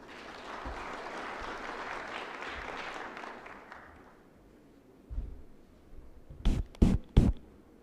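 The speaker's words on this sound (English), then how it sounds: "Let's give her a hand of applause." Audience applause at a national election conference as the EU Ambassador to Kenya is welcomed, a steady wash of clapping that fades out, followed by a few loud isolated thumps near the end.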